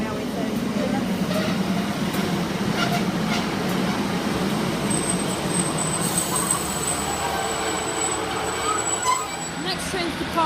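Great Western Railway unit 150239 bound for Plymouth rumbles steadily past the platform at Dawlish, a loud continuous low roar with a thin high whine in the later part. A voice speaks over it.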